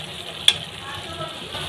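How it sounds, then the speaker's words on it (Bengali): Spice paste sizzles steadily in hot oil in a pan, a close, even frying hiss with one brief sharp tick partway through. "তো বন্ধুরা, মশলাটা আমি আরো কিছুক্ষণ কষিয়ে নেব।"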